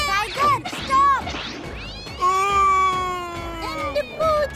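A cartoon kitten meows several times, high and drawn out, with some calls rising and falling in pitch, interleaved with short knocking thumps.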